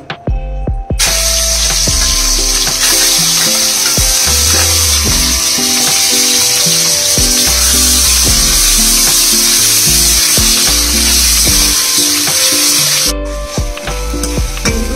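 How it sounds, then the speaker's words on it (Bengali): Prawns marinated in turmeric and salt fry in hot oil in a kadai, giving a loud, continuous close sizzle with occasional scraping stirs throughout, and no one speaking. "লবণ হলুদ মাখা নিয়ে চিংড়ি মাছটা ভেজে নেব।"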